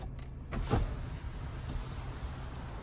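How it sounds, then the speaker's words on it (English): The power sunshade of a 2025 Genesis GV80 2.5T Prestige AWD SUV opens with a short click and then a steady, quiet electric motor whir that runs for a couple of seconds inside the cabin. "Even a physical control for the power sunshade."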